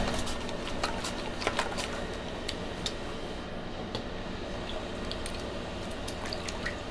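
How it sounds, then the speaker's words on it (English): Sliced raw potatoes are stirred by hand in a bowl of cold soaking water, giving soft intermittent drips, splashes and light ticking sounds over a steady background. "I'm just moving the potatoes around to make sure that they are being touched by the water."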